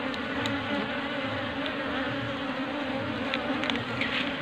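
Apis cerana bee colony buzzing steadily and close, a dense continuous hum with a few brief louder passes of individual bees, no voices.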